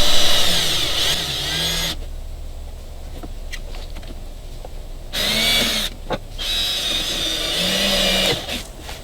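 A power drill bores holes into a classic Boston Whaler hull to mount a Martin Marine boarding platform ladder, running loud and whining in two long bursts separated by quieter pauses with small handling clicks.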